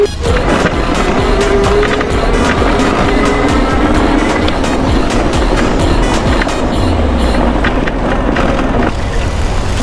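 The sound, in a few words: Aipas C2 Max e-bike riding in automatic mode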